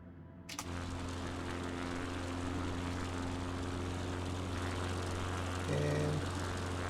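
A CubCrafters XCub propeller engine in Microsoft Flight Simulator 2024 drones at steady low revs, a constant close hum with a brief tonal shift near the end, no talking.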